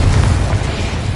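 A Confringo fire spell explodes in Hogwarts Legacy, a loud, dense, sustained boom that fills the whole moment without a break.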